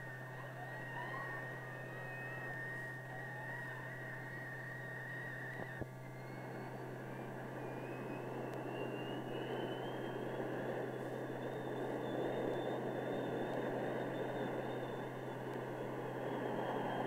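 A jet aircraft with afterburner makes a long, steady pass at a distance, a sustained roar with rising and falling whining tones, no talk over it.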